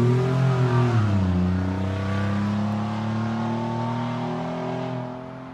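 Car engine held at steady revs during a misfire test on a street-tuned car, a loud continuous drone with strong harmonics that dips slightly in pitch after the first second, then stays even with no talk.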